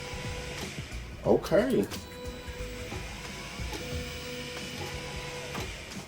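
The replacement stepper motor of an Ortur Laser Master 2 15-watt engraver moves the laser head, making a tonal mechanical whine with start-stop buzzing passes; a voice briefly speaks once.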